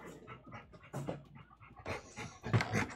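A dog panting in quick, rhythmic breaths close by, with scattered soft thumps that fit its tail hitting something nearby, and no talk.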